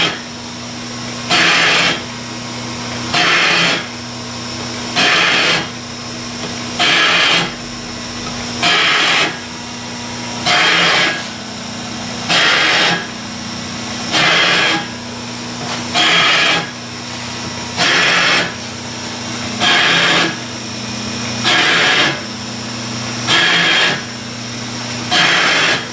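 Lathe taking a first cut on an out-of-round cast steam speeder wheel at about 32 RPM, a regular scraping burst of the tool every couple of seconds over a steady machine hum.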